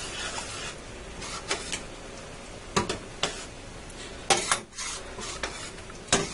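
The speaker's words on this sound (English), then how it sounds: "stir this up" A spoon stirring meat sauce seasoned with Italian seasoning and celery seed in a pot, with scattered metallic clinks and scrapes against the sides over a faint background hiss.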